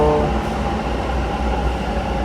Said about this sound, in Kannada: ಬಂತು ನಮ್ಮ ಮೆಟ್ರೋ.